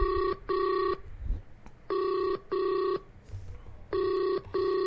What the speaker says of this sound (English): All right, it's ringing.